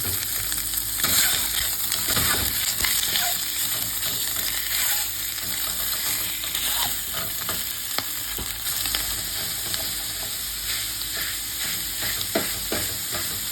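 Sausage browning in a hot pan for sausage pasta, a steady, close crackling sizzle that runs throughout, broken by occasional scrapes and stirs of a utensil.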